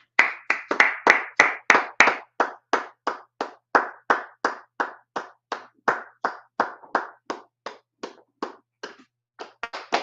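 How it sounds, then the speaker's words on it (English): A congregation claps hands at the close of a Sabbath service, with about two dozen loud, sharp, evenly spaced claps at a brisk, steady rhythm that ease off slightly toward the end. "Clap it up."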